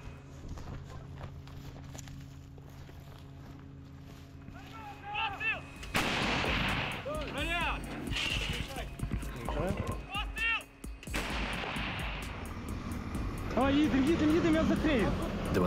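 A Ukrainian-made Bohdana 155 mm howitzer firing shells, with several loud booming blasts and long rumbling echoes amid outdoor noise and voices.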